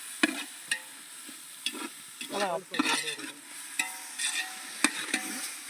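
Ginger and garlic fry in hot oil for chicken biryani cooked outdoors in a village setting at night, with close, repeated scraping stirs of a spoon in the pot over a soft sizzle and no talking.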